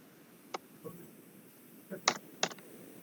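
Keystrokes on a computer keyboard as a networking command is typed, a few sparse clicks near the start and then a tighter cluster of sharp taps, fairly quiet in a still room.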